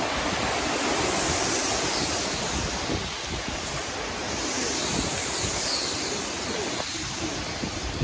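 Hurricane wind and rain roar outdoors as a dense, continuous wash of loud noise with gusty swells, buffeting the microphone throughout, with no talking.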